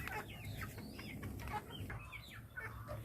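Benjaro hens cluck close by in a brief, busy run of repeated calls over a low background murmur.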